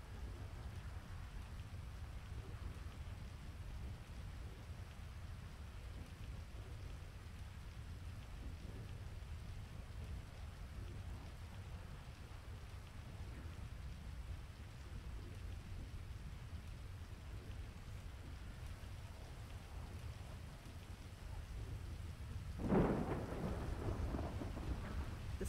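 Thunderstorm in GTA V: steady rain pours with a deep low rumble of thunder throughout, and a louder crack of thunder swells near the end, with no talk.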